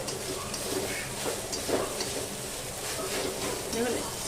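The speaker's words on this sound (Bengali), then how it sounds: "আবারও আমি তিন চার মিনিট পর এটাকে নেড়ে দিচ্ছি" Raw mango and papaya sweet pickle is stirred in a wok, with a soft, continuous sizzle and scraping strokes at moderate level and a voice faintly underneath.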